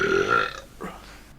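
A performer in a theatrical telling of the Grimm fairy tale The Griffin gives one loud, long, rumbling burp, and a short faint rasp follows as it trails off.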